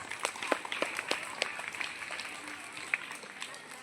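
An audience claps after a children's karate demonstration at a school, with sharp individual claps over a soft background of applause, moderately distant and uneven.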